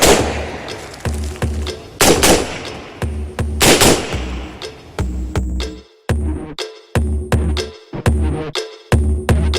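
Loud gunfire close by during a SWAT standoff with an armed active shooter, repeated single shots and short bursts in an irregular rhythm, with brief silences between volleys.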